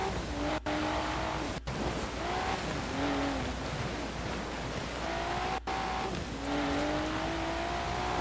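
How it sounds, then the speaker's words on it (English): An R33 Skyline drifts in Forza Horizon 4, its engine droning loud and steady with rising and falling revs and a smeared tire squeal, with a few sharp dropouts breaking the continuous noise. "if we're gonna drift, let's fucking drift, right?"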